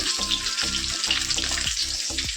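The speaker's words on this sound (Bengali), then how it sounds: "এখন আমি রান্না বসালাম দেখি মাছ ভাজা বসালাম" Fish frying in a pan, a loud close sizzle with rhythmic bursts of spattering as the oil crackles repeatedly, no voices.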